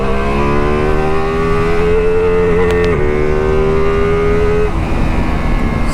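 A Ducati Multistrada V4 Rally motorcycle's engine drones loudly and steadily while riding, its harmonic tone rising slightly through the gears before easing off into road and wind rumble near the end.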